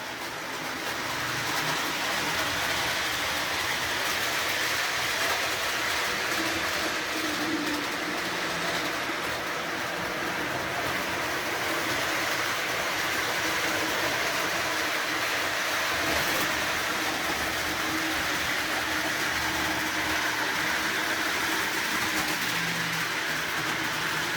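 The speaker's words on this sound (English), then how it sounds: "So that's a nice running locomotive right there." A Lionel Alco FA model locomotive in Chesapeake & Ohio livery runs on a home layout with a steady, continuous rumble and whir of motor and wheels on track. The sound stays close and even throughout, with no talk.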